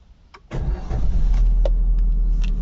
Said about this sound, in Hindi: एक बार मैं इंजन को स्टार्ट करता हूँ दिखाता हूँ